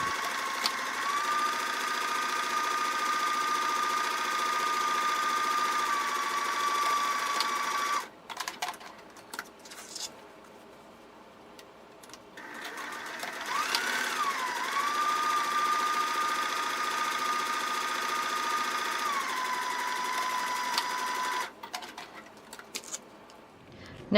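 A sewing machine edge-stitches the flap of a 3D octagon origami fabric face mask in two long steady motor runs with a pause between, loud and close, with only faint handling noises during the break.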